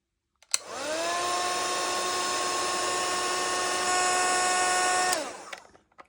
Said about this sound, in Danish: Og så tager man sin varmluftpistol.